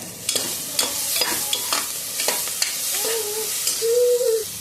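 Food, seasoned with rock salt, sizzling as it sautés in a hot pan for chicken kurma while a utensil scrapes and stirs in repeated strokes, with a few higher squeaks near the end.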